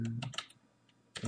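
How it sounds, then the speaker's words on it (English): Quick bursts of keystrokes clatter on a computer keyboard, a short flurry, a brief pause with a few light taps, then another rapid burst close by. "So I just did a little typing here."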